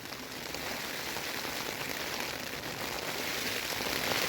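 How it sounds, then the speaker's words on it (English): Steady rain pattering on a taut tent overhead, a dense, even hiss of drops close by that holds constant throughout. "It's still raining."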